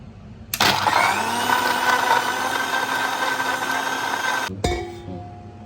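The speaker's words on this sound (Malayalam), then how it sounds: "ഇനി നമുക്കിതൊന്ന് മിക്സിയിൽ അടിച്ചെടുക്കാം." A mixer grinder blends a mint, ice and water drink, its motor whirring up loudly with a harsh churning roar that runs steady for about four seconds, cuts off abruptly, then briefly restarts.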